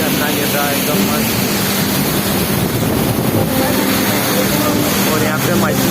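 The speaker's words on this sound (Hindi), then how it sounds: "मेरे पीछे झरना गिर रहा है एकदम मस्त।" Water pours continuously over Dhareshwar waterfall, a dense roaring wash buffeted by wind on the microphone, with someone speaking beneath the noise.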